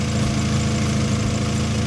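A car engine idles steadily, close and loud, with a low, even pulsing rumble while the distributor is turned to adjust the ignition timing.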